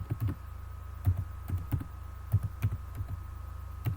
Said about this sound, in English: after this I will type a prompt here: remove the background